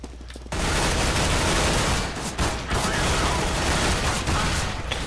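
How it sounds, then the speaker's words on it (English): Counter-Strike: Global Offensive deathmatch gunfire from a tactical machine pistol (TMP), a loud, dense, continuous automatic burst after a brief quiet start, with other in-game shots and mechanical clatter layered in. "Let's go with the tactical machine pistol, people."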